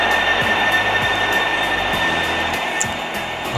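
An LRT train in the Bus Simulator Indonesia game rolls alongside at speed, a loud, constant roaring rumble with rhythmic wheel-over-joint clunks and a faint steady whine, no speech.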